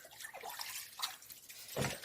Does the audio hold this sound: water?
yes